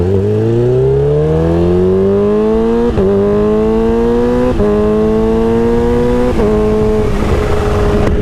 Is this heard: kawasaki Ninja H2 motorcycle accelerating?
yes